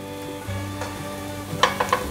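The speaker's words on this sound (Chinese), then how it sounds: "现在放入红萝卜，还有香菇，快速翻炒，大略翻拌一下" Lion's mane mushroom is stir-fried with carrot and shiitake in a pan, a steady sizzle broken by a few sharp clinks and scrapes of quick tossing near the end, with no talk.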